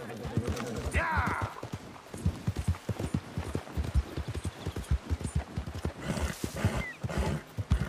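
A horse in the Red Dead Redemption II video game gives a brief whinny near the start, then hooves clop in a steady rhythm, with someone talking over them.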